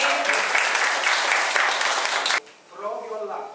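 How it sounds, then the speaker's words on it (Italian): Audience applause for Gaetano Seminatore at a book presentation in Labaro, a dense burst of clapping that fills the room and then cuts off abruptly, followed by someone speaking. "io farei un applauso anche per Gaetano Seminatore"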